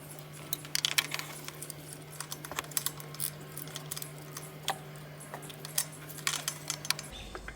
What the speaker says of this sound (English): Let's see if I can get over there and loosen that spark plug now.